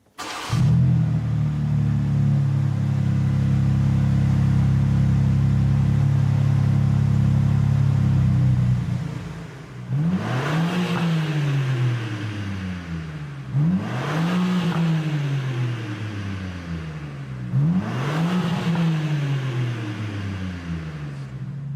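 A BMW M4 CSL fires up and holds a loud, steady idle for several seconds. After a short dip, three sharp revs rise and fall one after another, close and clear, with no talking.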